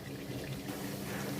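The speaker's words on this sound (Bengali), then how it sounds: "এবার একটু জল দিয়ে দেব।" Water poured into a pot of chicken curry with potatoes, a steady close splashing trickle lasting about a second and a half, with no voices.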